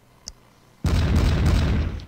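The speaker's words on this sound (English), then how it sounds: "Cannon away again." A cannon fires in the turn-based pike-and-shot era strategy game Pike and Shot: Campaigns: after a tiny click, one loud, full, booming blast hits suddenly and rumbles on steadily for over a second.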